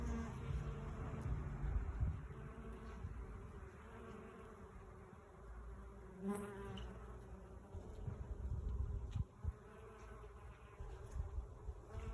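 Steady insect buzzing close by, bees droning continuously for several seconds with soft outdoor background noise and a few brief louder passes.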